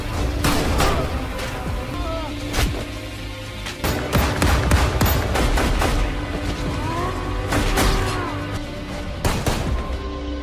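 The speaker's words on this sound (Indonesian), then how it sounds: "baku tembak pun kembali terjadi" Film gunfight with mafia gunmen, a burst of loud, close gunshots cracking in quick irregular volleys, layered over a tense movie score and occasional booms.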